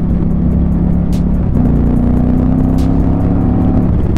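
A fast-ridden Indian Challenger Limited bagger motorcycle drones steadily at speed, its engine note stepping up in pitch partway through, with wind roar throughout and no talking.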